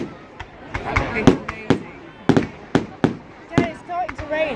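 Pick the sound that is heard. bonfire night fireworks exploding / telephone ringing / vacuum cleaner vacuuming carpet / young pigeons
bonfire night fireworks exploding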